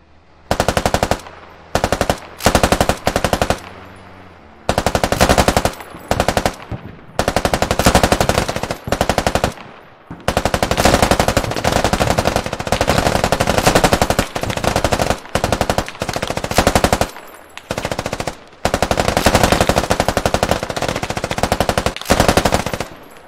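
Sustained automatic suppressing fire in the military shooter Squad, loud close bursts of rapid rounds in long runs separated by short pauses.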